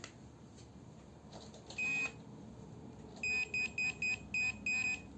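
Handheld gold detector pinpointer in sound and vibration mode, giving a short burst of electronic beeps with a buzzing rattle, then a series of clipped, evenly spaced beeps, close up under quiet background noise.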